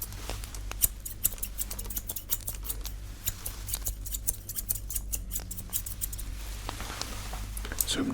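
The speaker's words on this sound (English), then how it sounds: "I'm just going to change over my scissors here" A barber's scissors snip and click in close, quiet bursts during a haircut, a rapid irregular patter of metallic ticks over a low steady hum.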